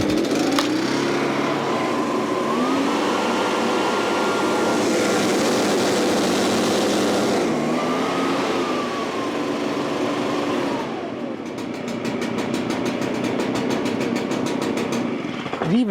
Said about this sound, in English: A little bit more throttle. We'll give her the beans.